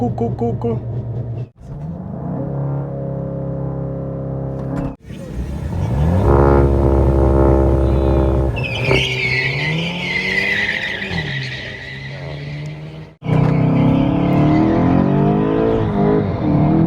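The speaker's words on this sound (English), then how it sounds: "I want to try short shift into second gear." VW Golf 8 GTI launching in a drag race against a Hyundai i30 N, the engine roaring hard through short-shifted gears with brief cuts between them and a burst of tyre squeal, heard loud from inside the car.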